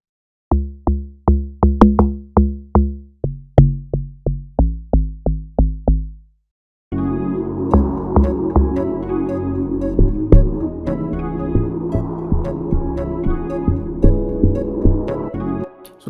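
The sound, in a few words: log drum patch in FL Studio's DX10 synth, amapiano beat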